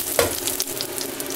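Dried red chilies and spices with sambar powder sizzle in hot oil during tempering, a close, lively crackling fry with small pops and stirring scrapes throughout.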